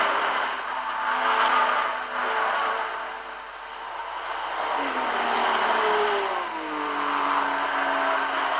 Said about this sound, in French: les 55 voitures s'étirent sur pratiquement tout le circuit